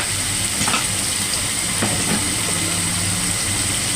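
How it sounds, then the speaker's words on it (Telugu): Spicy Andhra-style chicken fries with turmeric and salt in a pan, giving a steady, loud sizzling hiss throughout. A few brief scrapes of stirring come through near the start and middle. "ఇప్పుడు అన్నీ కలుపుకొని బాగా ఫ్రై అయ్యే వరకు ఫ్రై చేసుకోవాలి చికెన్"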